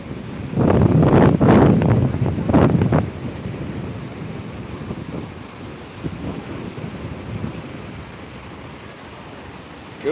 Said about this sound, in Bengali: আকাশ হালকা মেঘ জমে রয়েছে বৃষ্টি আস্তে আস্তে পড়ছে আর এখন সমুদ্রে জোয়ার